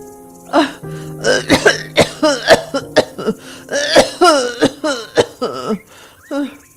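A woman coughs hard and repeatedly in rough, hacking bursts, with strained vocal sounds between coughs, close and loud.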